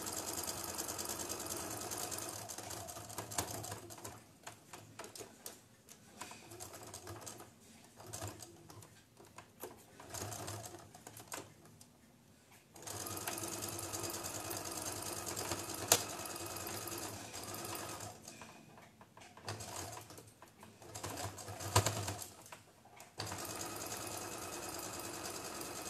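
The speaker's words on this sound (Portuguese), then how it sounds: "Deixa eu costurar." Sewing machine running in steady stretches as it stitches a patchwork quilt block, with a close, even mechanical whir broken by short pauses and no talk.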